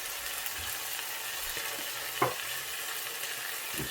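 Jollof spaghetti is stirred in a single sizzling pot, with constant frying hiss beneath it, a clear utensil scrape just past the midpoint and another knock at the very end.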